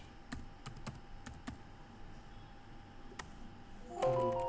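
A few sparse computer keyboard keystrokes tap out at irregular intervals against a quiet room hum, with a short burst of louder activity near the end.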